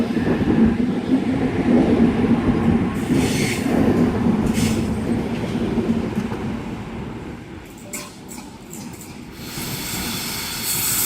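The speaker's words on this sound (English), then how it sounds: "our 4-car Oscar is now departing platform number 1 for a central service" A 4-car Oscar passenger train pulls away from a station platform at Gosford, a loud low rumble of motors and wheels that fades gradually, with brief wheel squeals and clanks near the end.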